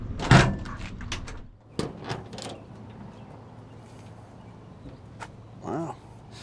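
Door of a 1950 Chevrolet 3600 pickup truck opening, a sharp metallic clunk at the start followed by a few lighter knocks and rattles, close by, with a brief voice near the end.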